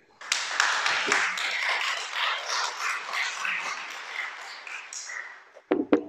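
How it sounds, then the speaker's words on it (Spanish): Applause from a small group, scattered clapping that starts abruptly, holds a steady patter for several seconds, then fades, followed by a couple of sharp close taps at the end. "Dale un aplauso al Creador."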